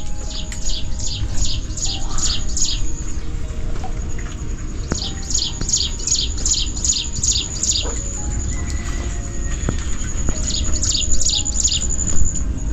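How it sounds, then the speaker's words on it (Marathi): Small birds chirp and sing in a rural backyard garden on a morning after rain, repeated rapid trilling bursts standing out clearly over a steady outdoor background. "सकाळ सकाळ पक्ष्यांचा किलबिलाट आपल्याला गाणे ऐकू येते."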